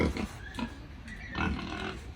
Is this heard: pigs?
yes